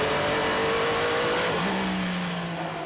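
Number 8 Toyota race car at the 6 Hours of Silverstone passing with a steady, loud engine drone whose pitch holds and then drops as it goes by, with no voices.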